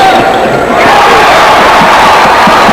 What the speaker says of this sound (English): Crowd really alive here at Madison Square Garden.